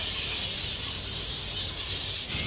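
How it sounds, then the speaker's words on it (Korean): Large colony of bats roosting in a tree in a city park garden, a constant dense chorus of shrill chattering calls with steady broadband hiss, no voices. "박쥐 우는 소리는 또 처음 들어보네"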